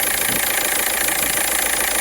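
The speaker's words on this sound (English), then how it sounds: "I think I can hear the flywheel starting to just rattle every now and then" A cheap £500 used car's engine idles steadily with a dense, rough mechanical clatter that could be an occasional flywheel rattle, close and continuous with no talking.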